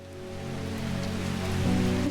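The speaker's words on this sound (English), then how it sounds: "Oh, it's thundery, not just raining." Rain falls steadily in a soft wash over the Strange Horticulture game, with a low ambient music bed underneath and no distinct thunderclap.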